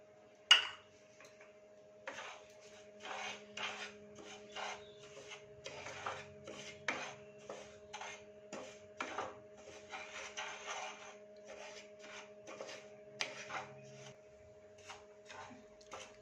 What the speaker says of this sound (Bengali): সুজিটাকে একটু ড্রাই রোস্ট করে নেব